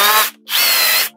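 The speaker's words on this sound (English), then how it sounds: "by putting the mode into the impact drill" A Bosch GSB 12V-30 cordless drill whirring loudly in impact mode, two close bursts of high motor whine separated by a brief pause.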